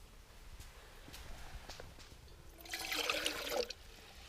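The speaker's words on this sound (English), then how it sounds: "I'm just gonna take my billy can here and I'm gonna very carefully, I'm trying not to disturb the water" A billy can is dipped into a silty stream, giving a soft watery scoop and slosh after a few quiet splashes and taps, close and gentle.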